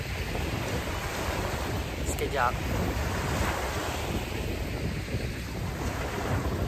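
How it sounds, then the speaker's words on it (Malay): Strong wind at a beach blasts the microphone in a constant, loud, rough rumble over the wash of surf, with a brief spoken word in the middle. "Angin kuat sangat."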